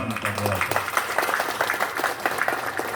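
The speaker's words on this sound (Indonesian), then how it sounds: "Tepuk tangan." Audience applause at a community gathering, a spread of clapping that begins after a voice trails off at the start, moderately loud and steady.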